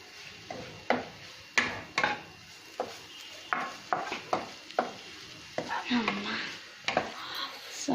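Salted mixture stirred in a pan over a flame, a spoon scraping and knocking in a steady run of short scrapes and taps with a light sizzle underneath, close and moderately loud.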